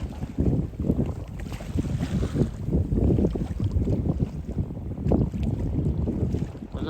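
Strong wind gusts of about 12 knots buffet the microphone over the rushing wash of water along a moving sailboat hull sailing close-hauled off Evia, Greece, loud and continuous.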